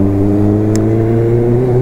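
Kawasaki Ninja H2 motorcycle engine running steadily at close range, a loud sustained mechanical drone with a stable pitch, alone with no talk.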